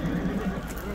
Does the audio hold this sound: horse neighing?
yes